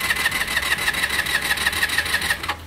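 A motorcycle engine is cranked and started by bridging the starter solenoid directly. A steady, rapid mechanical pulsing churns close by for about two and a half seconds, then cuts off.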